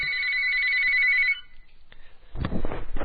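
A telephone rings on a radio call-in show, a bright electronic ringtone with steady repeating tones for about a second and a half, then cut off as studio voices begin.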